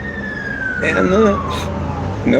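Police car siren wailing in a steady descending tone as the vehicle passes, moderately loud over a background hum, with people talking over it.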